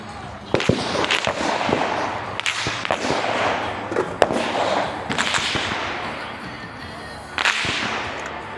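Sharp rifle reports crack out at a biathlon firing line during a men's elite regional race stage in New Hampshire, several spaced shots over a steady crowd and wind background, with a commentator talking at moments.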